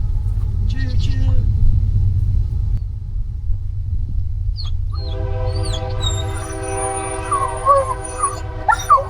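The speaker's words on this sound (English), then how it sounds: "Comes the train." A train passes by near a rural spot with girls drinking water, its low rumble steady throughout and a horn-like tonal blast joining in the second half, with birds or a voice faintly on top.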